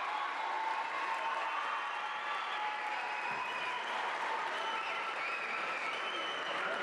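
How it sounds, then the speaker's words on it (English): The Redbird crowd at a Metamora vs Wheaton St. Francis volleyball match applauds and cheers during a timeout, a dense, continuous roar of clapping that stays loud and even throughout. "here comes the Redbird crowd"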